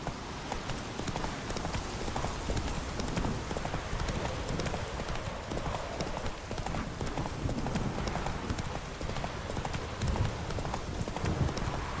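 In The Witcher 3: Blood and Wine, the horse Roach gallops with a rapid, rhythmic clip-clop of hooves that stays steady and close throughout.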